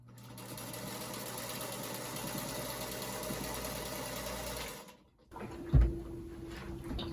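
A sewing machine stitches a quarter-inch seam on a quilt block in one steady, close whirring run, then stops; a soft thump and a short spurt of motor hum follow.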